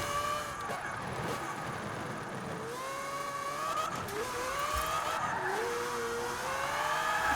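A Mazda RX-7 in Forza Horizon 4 buzzes and revs hard while its tires squeal through repeated drifting slides, the rising and falling engine tones and skids layered continuously at moderate level.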